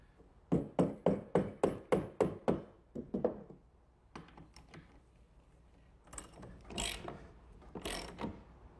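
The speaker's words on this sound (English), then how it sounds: "Now I'll just use a socket and fasten it down." A socket ratchet drives a bolt down into a 1/4-inch pilot hole with a quick run of about nine sharp, evenly spaced clicks. Scattered louder knocks and clattering handling sounds follow close by.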